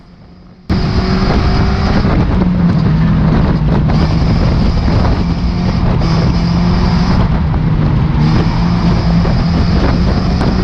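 A stock car revs hard with wheel spin off the start line at Cowdenbeath Racewall, a loud, steady engine roar that kicks in abruptly and holds close to the microphone, with some wind buffeting.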